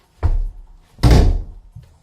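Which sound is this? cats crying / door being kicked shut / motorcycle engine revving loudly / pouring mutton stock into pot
door being kicked shut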